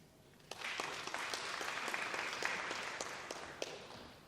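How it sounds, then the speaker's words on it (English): An audience at a sponsor launch at the State Library of Victoria breaks into applause, many hands clapping steadily for a few seconds at moderate volume. "Big round of applause for Gary."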